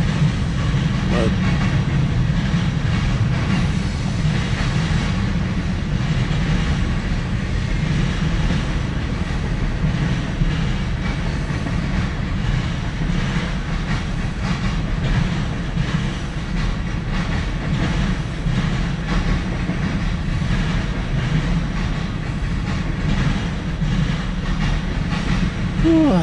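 A CSX M410 mixed freight train rolls past on track 2, a loud continuous rumble with rhythmic wheel clatter and metallic squeal sustained for the whole passage.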